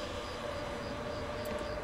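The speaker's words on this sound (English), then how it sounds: "First train is a southbound regional making a station stop" A southbound regional train stands at San Pietro in Casale station in Italy, giving a steady low rumble and a constant tonal hum at moderate distance, with no talking.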